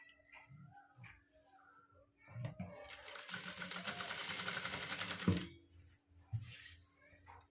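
A sewing machine stitches piping onto sleeve and armhole pieces of fabric in one fast, even run of about three seconds, close but quiet, with soft handling sounds and speech before and after.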